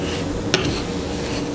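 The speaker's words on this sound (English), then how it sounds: "So I'm gonna let those cook just until the onions are soft and golden brown." Onions sautéing in a pan with a little vegetable broth, a steady close sizzle broken by one brief clink of a utensil against the pan.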